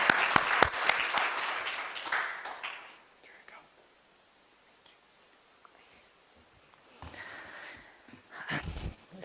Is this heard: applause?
yes